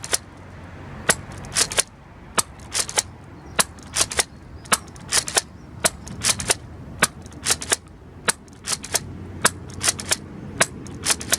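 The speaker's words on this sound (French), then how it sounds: "Je vais tirer 15 fléchettes." A Nerf Elite Surgefire foam dart blaster fires fifteen darts as sharp, snappy clicks, spaced irregularly, some single and some in quick pairs, each with a light mechanical clack, over a quiet background.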